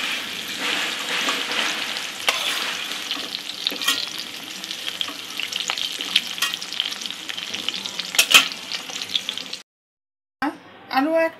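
Sliced onion and capsicum fry in a pan, a continuous close sizzle broken by stirring clicks and scrapes, stopping briefly near the end before a few more clatters.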